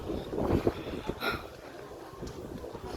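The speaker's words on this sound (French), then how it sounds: "Le vent. Regardez le vent." Gusty wind in Parthenay buffets and rumbles, loud at first then easing into a steady rushing blow, with no voices.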